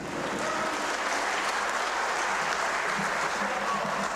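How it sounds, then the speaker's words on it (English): Audience applause at a regional town hall meeting in Koforidua for the Deputy Minister of Finance, a steady, even wash of clapping from a large crowd that holds throughout, with a voice talking over it. "Another big round of applause for Dr. Ampabin."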